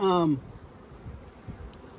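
A short, loud buzzing drone of honeybees at the very start that quickly fades, leaving quiet outdoor background with faint rustles.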